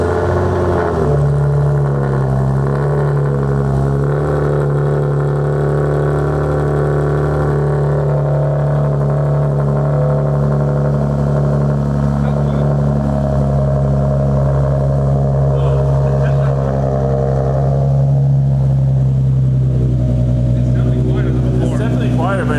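A Nissan 370Z with a Greddy EVOlution GT cat-back dual exhaust cold starts and settles into a loud, steady, deep idle drone, with people talking over it throughout.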